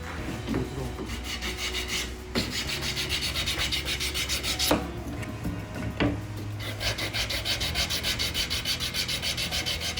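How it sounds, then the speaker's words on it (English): Rhythmic rasping strokes of a pointed sanding block rubbed back and forth over wood for a mortise and tenon joint, close and steady with brief pauses. "I can sand all the way up to the corner"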